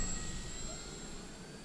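A Trojan T-28B radio-controlled model plane making a slow pass, a steady whining engine drone fading slightly as it moves away, with no voices.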